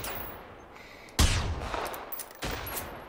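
Two sharp gunshots ring out in the video game Generation Zero, one about a second in and another near the end, each with a short decaying tail over quiet background.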